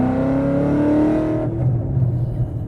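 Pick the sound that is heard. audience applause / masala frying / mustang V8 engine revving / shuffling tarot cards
mustang V8 engine revving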